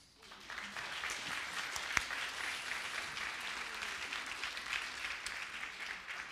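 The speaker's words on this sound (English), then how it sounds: "Let's go ahead and applaud." A congregation applauds during a church service, soft dense clapping that swells in after a quiet start and continues evenly, fairly distant, with one sharp louder clap standing out early.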